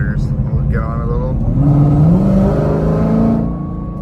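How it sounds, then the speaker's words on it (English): A Ford Shelby GT500 with headers and its exhaust in sport mode rumbles loudly nearby, rising in pitch as it revs up, then settling. "So that's a little exhaust clip"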